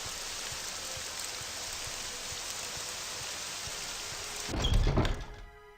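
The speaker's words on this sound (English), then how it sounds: "But it's raining." Steady rain hisses across the whole stretch in The Elder Scrolls: Legacy, a dense even wash, then a heavier thump and rumble bursts near the end before fading.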